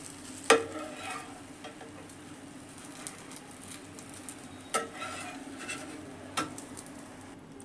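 Puffed rice and semolina dosa frying on a pan over a gas stove, a steady low sizzle running throughout with a few sharp utensil clinks and scrapes rising above it.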